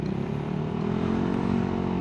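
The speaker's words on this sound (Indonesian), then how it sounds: "suara ambience jalanan, mobil, motor, orang" Street ambience on a motovlog ride, with a steady engine drone of motor traffic, cars and motorcycles blended in a continuous close hum.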